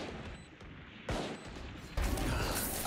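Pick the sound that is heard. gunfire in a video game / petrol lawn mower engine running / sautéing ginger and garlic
gunfire in a video game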